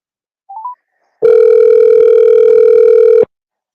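A telephone dial tone sounds loud and steady for about two seconds while a call is being placed, after a brief faint chirp. No one speaks.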